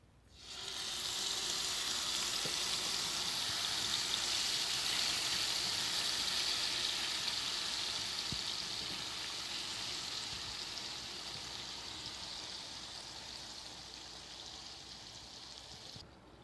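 Chicken pieces hit hot ghee in a frying pan alongside cashew nuts and green chili, raising a loud, steady, broad sizzle that holds for many seconds and eases slightly toward the end.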